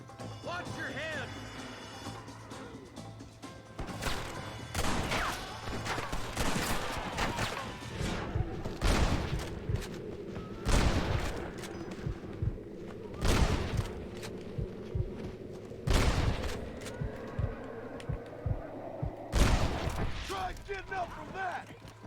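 Gunfire crackles through a Red Dead Redemption video game shootout, with sharp shots spaced every couple of seconds over a steady low rumble, and people talk between the bursts.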